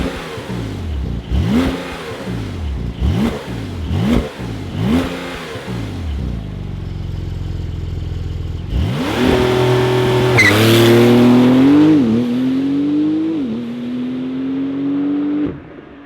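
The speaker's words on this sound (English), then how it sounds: "fire up this 911 Turbo S" A Porsche 911 Turbo S engine rumbles through a few sharp blips, cranks to life near the middle, then flares into a loud rising rev that settles into a steady, droning idle. The engine sounds close and strong.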